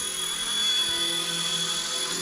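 A Motion RC mini helicopter, a small replica of Cleetus McFarland's Mini Consuela, flies with a steady, high-pitched whine from its motor and rotor, constant and unbroken.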